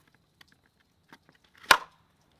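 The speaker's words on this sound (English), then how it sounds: "A little bit of rattle when I do that" A V44X knife from Work Tuff Gear rattling in its sheath: a few faint scattered clicks, then one sharp, louder rattle near the end, with no talk.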